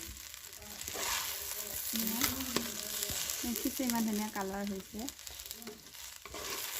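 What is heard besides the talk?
rice frying in mustard oil with onion and spices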